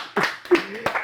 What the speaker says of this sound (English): a round of applause for the super talented Chimezie Imo.